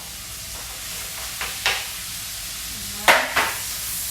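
Tomato and capsicum hit a hot pan over a steady background sizzle. A couple of sharp splashy bursts mark the moments they drop in, followed by brief stirring.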